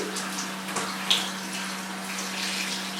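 Warm water runs steadily from a tap over hair as it is saturated on wash day, a soft, even hiss close by with one small splash partway through and no talking.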